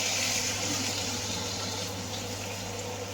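A small splash of water poured into a pan of ivy gourd stir-fry cooking in coconut oil, a steady soft rushing pour that runs throughout at low volume with no talk.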